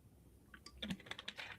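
Quiet, close computer keyboard typing: a short burst of light, irregular key clicks building over about a second in a still room.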